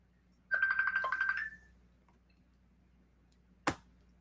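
An incoming-call phone ringtone interrupts a live broadcast presentation. It plays as a single bright, warbling melodic burst of about a second, followed later by a sharp click, with a low steady hum underneath.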